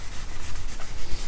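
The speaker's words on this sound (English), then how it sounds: "Got a wet sanding 101 class going on right now." Wet sanding a painted Ford Model A firewall gives a steady, continuous rubbing scrape, rising and falling in rhythmic strokes at close range with no voices.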